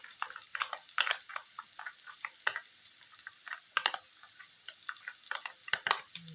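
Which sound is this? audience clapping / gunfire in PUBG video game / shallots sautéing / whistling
shallots sautéing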